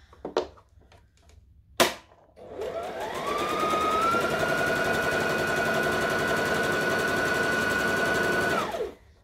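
A sewing machine stitching forward and back, preceded by a couple of sharp clicks, then a steady close whirring run of several seconds that rises slightly in pitch before stopping, no talk.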